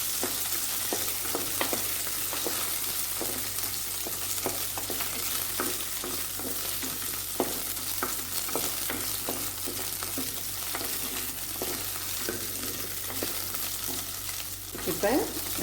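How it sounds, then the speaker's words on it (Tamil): Okra frying in a clay pot, a dense continuous sizzle with frequent soft stirring scrapes at an uneven rhythm, close and steady throughout. "இப்போ ஒரு மண் சட்டி வச்சு இந்த வெண்டைக்காயை நல்லா ஃப்ரை பண்ணி எடுத்துக்கலாம்."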